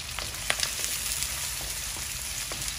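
Shrimp fries with onion in a pan, an even close sizzle dotted with small pops and spatters, heard alone without talk.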